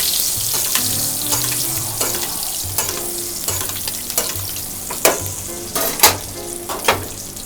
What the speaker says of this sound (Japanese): そのバターでアロゼしてあげればいい。